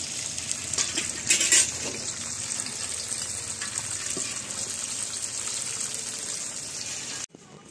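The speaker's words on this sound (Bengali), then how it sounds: "এবার বিনস ভাজা হচ্ছে।" Green beans fry in a pan in a home kitchen, a steady hissing sizzle with occasional stirring scrapes and a brief louder clatter early on, close and continuous.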